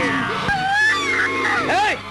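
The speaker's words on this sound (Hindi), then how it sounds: "अरे, ये तो भाभी की चीखें हैं।" A woman's screams in a 1980s Hindi horror film, a few rising and falling wails over about two seconds, loud and close, with other voices murmuring underneath.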